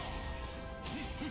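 A video game boxer's smashing-to-the-ground move lands as one sharp, broadband crash near the end of a short stretch of steady game background noise.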